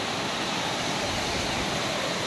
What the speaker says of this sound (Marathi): तुम्हाला आवाज येत असेल धबधब्यांचा